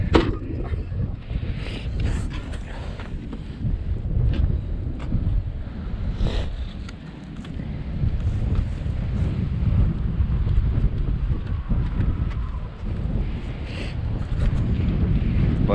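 An Arrma Mojave 4S RC car bashing on dirt, heard as a continuous rough rumble of tires and motor with wind buffeting the microphone, occasional sharp clacks and scrapes, moderately loud throughout.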